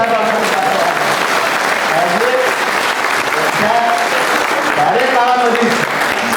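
A crowd at a municipal employees' union annual general meeting applauds loudly and continuously, steady dense clapping with voices calling out over it.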